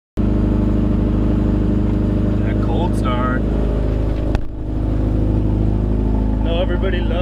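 Subaru STI with a Cobb exhaust idling loud and steady after a cold start, a deep burbling drone that holds through the whole stretch while voices talk over it.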